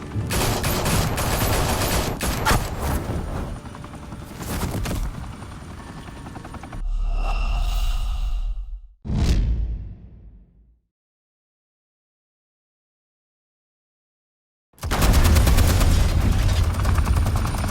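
Heavy gunfire rattles through a Batman video game scene, dense and loud over roaring helicopter-like noise for several seconds, breaking off into quieter bursts and silence before a loud blast of sound returns.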